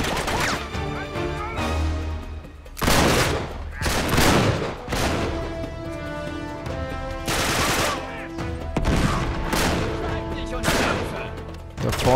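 Gunfire in an Uncharted 3 video game shootout: repeated loud bursts of rifle shots and impacts in irregular clusters, with music and occasional talk underneath.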